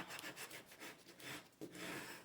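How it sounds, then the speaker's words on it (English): A bone folder burnishes paper in short, faint rubbing strokes, a quiet scratchy back-and-forth rhythm of about five passes in close range. "I'm going to turn it over and just burnish that good. with my bone folder"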